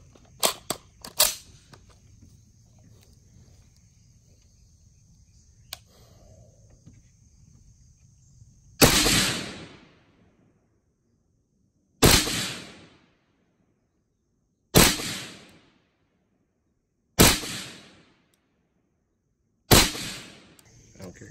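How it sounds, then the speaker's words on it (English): Rifle shots fired with Wolf Gold ammunition during a zero-shift test: five loud, evenly spaced cracks, each decaying quickly, after a stretch of faint handling noise and small clicks. "Then I'm gonna be dumping a full 30 round mag to heat the gun up."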